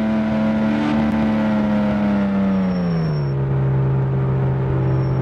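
Car engine in the Ski Resort Driving Simulator video game, a steady synthetic hum that drops smoothly in pitch midway as the car slows, loud and alone.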